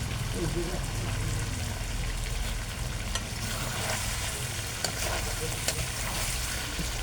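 Mutton curry sautéing in a pan during the kosha stage, a steady close sizzle and frying crackle running continuously under a speaking voice.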